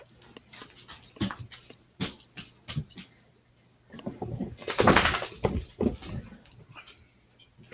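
A dog close by whimpers in short, high, plaintive bursts, breaking into a louder run of whines and quick panting breaths, with a few soft rustles between.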